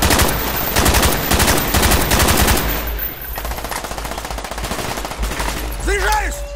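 Rapid rifle gunfire in Call of Duty: Black Ops, loud sustained automatic bursts for about three seconds, then continued shooting and battle noise, with rising electronic tones near the end.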